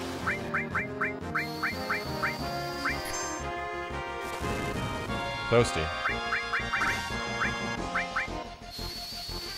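Giant bird enemies in a Final Fantasy VII battle give a rapid series of short, high squawks over looping game music and effects, while a player talks briefly.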